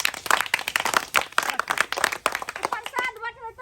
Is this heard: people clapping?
yes